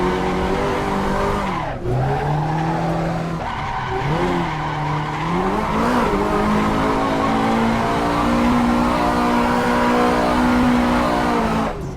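Drift car tearing up a hill heard from a ride-along, engine screaming at high revs with pitch swooping through gear changes and tire squeal, loud and continuous with no talking.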